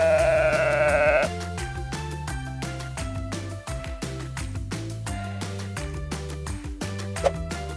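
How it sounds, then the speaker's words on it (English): A sheep bleats loudly and up close in one long wavering call, followed by a series of clicking, tapping sounds. "Sheep."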